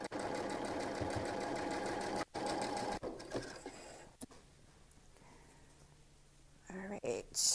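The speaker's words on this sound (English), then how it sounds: "I'm sewing and you can't see it." A sewing machine stitches a fabric notebook cover, running in a loud, steady burst for about two seconds, then in short, choppy starts and stops before a final quick run. A faint voice is present under the motor.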